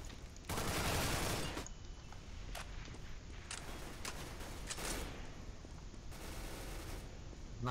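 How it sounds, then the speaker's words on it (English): Rapid bursts of gunfire in a CS:GO match on the Office map, a loud sustained volley up front followed by sharper scattered shots and shorter bursts throughout. "He revealed himself by shooting there"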